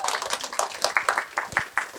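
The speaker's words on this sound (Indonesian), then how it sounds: "tepuk tangan dulu buat Pak Ustadz kita" Audience clapping in a hall for an ustadz after a Ramadan talk about reading the Quran, a burst of scattered, moderately loud claps with no one speaking over it.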